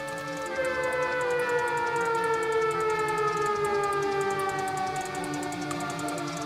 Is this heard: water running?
no